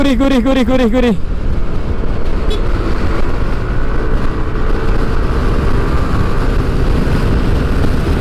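Yamaha NMAX turbo scooter engine held at full throttle, a loud steady roar with strong wind rush running the whole stretch, after a brief higher revving whine at the start.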